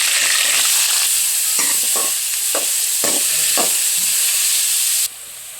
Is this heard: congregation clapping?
no